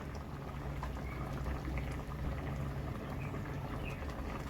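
Lentils for Udupi-style sambar boil in a pot, giving a soft, steady bubbling and simmering close by, with no voices over it.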